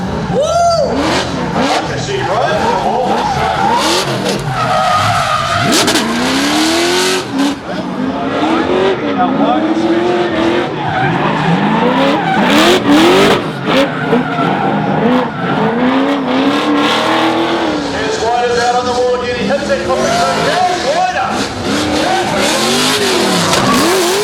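The 2 Degrees 700Z drift car screams through a qualifying run at a D1NZ Drifting Championship round in Whangarei, its engine revving hard and tires squealing continuously, loud and close, with a commentator talking over it.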